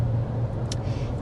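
A 2024 Toyota RAV4 Hybrid, 219 horsepower, pulls away from a stop with a steady low engine and road rumble lasting about a second, fairly loud and close.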